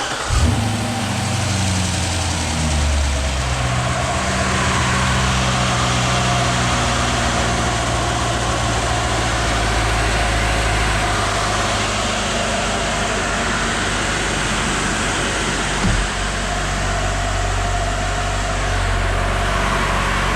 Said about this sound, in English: We're gonna fire it up.